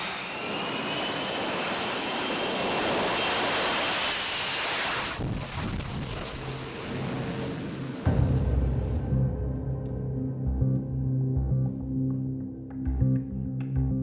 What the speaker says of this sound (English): As the F-35B accelerates along the flight deck, the vectored thrust system engages